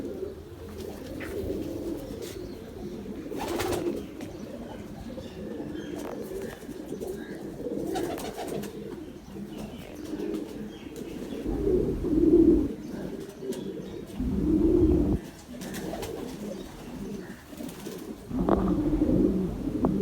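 Red-eyed pet pigeons coo softly and steadily, with several low throaty calls rising above a continuous rumbling background over the whole stretch.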